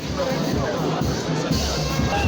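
Dense crowd of party supporters gathered at the port in Bukavu, a steady, loud outdoor hubbub of many overlapping voices with no single speaker standing out.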